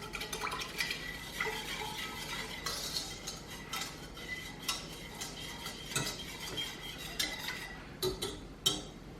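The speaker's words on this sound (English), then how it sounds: "So give this a whisk." A whisk clinks and scrapes against a pot while stirring a sugar and corn syrup mixture for vanilla ice cream, with quiet, irregular taps and swishes close by.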